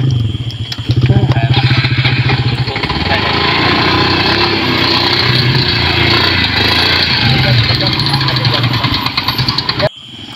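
Loud motorcycle engines rev and rumble steadily throughout as they ride off-road, with a deep throbbing idle and rising throttle bursts; a voice is faintly heard beneath.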